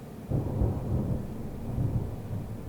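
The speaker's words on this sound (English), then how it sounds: "God damn, there's some thunder." Thunder rumbles in a short, deep roll that swells and fades over a couple of seconds, heard alone at a moderate distance.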